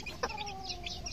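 A chicken gives a short, soft cluck nearby at a backyard poultry setup, a brief low-level call over faint background noise.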